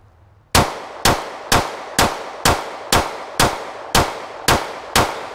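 Ten sharp, loud shots from a Glock 30 pistol ring out in a steady, evenly spaced string, each with a brief ringing decay, heard close and without talk.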